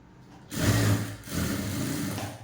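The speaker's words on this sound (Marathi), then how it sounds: "तर इथे बघा मी शिलाई मारून घेते." A sewing machine stitches a blouse hook patti in two quick bursts of motor whir and needle chatter, close and loud, separated by a brief pause.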